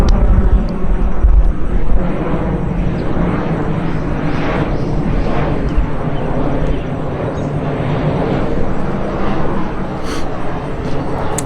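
Fixed-wing airplane passing overhead near an airport, a loud, steady roar of engines filling the whole clip and rumbling continuously outdoors without speech.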